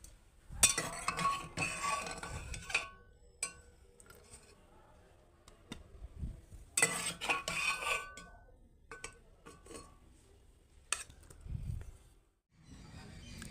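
Boiled amla being moved into a bowl, heard as bursts of light clinks and scraping of utensils against dishware, with quiet pauses between the handling sounds.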